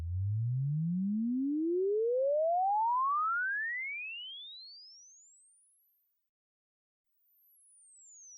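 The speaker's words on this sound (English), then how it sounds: "it's just a sine wave that's going up and down the spectrum" A pure synthesized sine tone in Bitwig sweeps smoothly upward from deep bass to a very high pitch, then turns back down as it reaches the top, steady and alone with no other sound.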